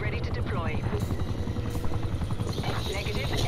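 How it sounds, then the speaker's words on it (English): An attack helicopter in Call of Duty: Black Ops Cold War, its rotor chop and engine drone rumbling steadily while people talk loudly over it. "Attack helicopter is ready to deploy."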